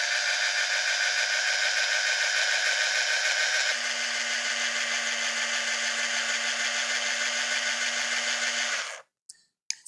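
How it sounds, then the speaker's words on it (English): A power drill twists jewelry wire, running as a loud, steady high whine with a slight pitch shift partway through, then cutting off abruptly with a few small clicks. "now I'm just going to hit the button on the drill and let's twist this wire"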